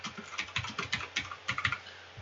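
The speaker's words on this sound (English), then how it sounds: "we'll just type in here" Quick, close keystrokes on a computer keyboard during text entry in a 3D texturing workflow, coming in short uneven bursts of clicks with no voice over them.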